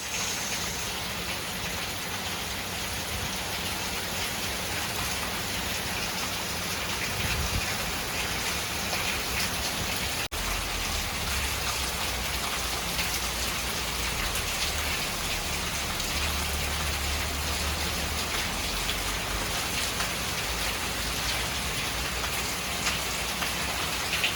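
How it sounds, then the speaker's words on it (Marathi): Heavy monsoon rain pours steadily outdoors in a rural village setting, a dense continuous hiss of drops drumming on surfaces with a faint low rumble, no voices. "मुसळधार पाऊस"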